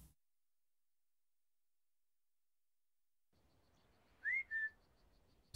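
A character's whistle emote in the survival game ATLAS sounds after a long silence as two short, bright whistled notes in quick succession over faint game ambience.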